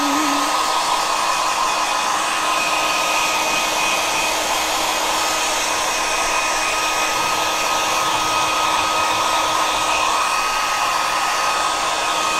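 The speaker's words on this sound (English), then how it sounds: "I'm just going to whiz it with a hairdryer" A hair dryer blows steadily and loudly to dry artwork, a constant whirring rush of air with a high whine, running without a break throughout.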